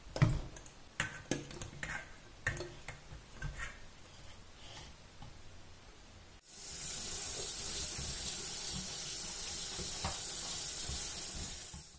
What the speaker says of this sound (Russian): для начала надо хорошенечко промыть капусту